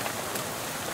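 Steady hiss of nighttime rain in the video game Shadows Over Loathing, an even, dense wash of rainfall with no voices over it.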